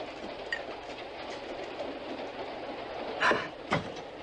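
Steady rumble of a passenger train rolling along, heard from inside the last car, with a continuous mid-range roar and a couple of brief clanks or rattles near the end.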